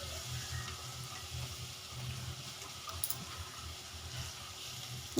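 Small onions sautéing in a pan for a Tamil chicken kurma kuzhambu, giving a steady, soft sizzle and frying crackle that runs continuously at low volume with no talk over it.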